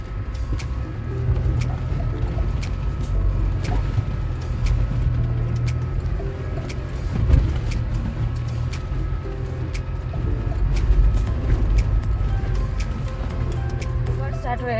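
A 4x4 vehicle grinds along a bad, muddy road on the way to Everest Base Camp, a loud continuous engine rumble with bumps and rattles, while people talk over it.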